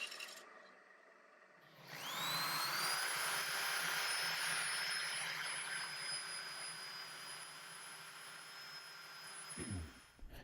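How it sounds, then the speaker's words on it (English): A dust extractor spins up and runs with a steady, loud whining roar during sanding of an ambrosia maple bowl on a lathe, a rising pitch at startup, then a constant drone before a brief clatter near the end. "I'll have the dust extractor going"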